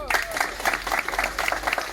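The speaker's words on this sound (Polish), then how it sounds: "Brawa dla niej." Rally crowd applauding a candidate at a political event, bursts of clapping rising and falling in uneven waves, with cheering voices mixed in.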